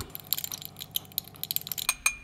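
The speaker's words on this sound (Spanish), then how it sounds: "y lo disuelvo." Sodium carbonate being stirred into water in a glass during a chemistry demonstration, with rapid irregular clinks and taps of the stirrer against the glass, close and fairly crisp, no talking.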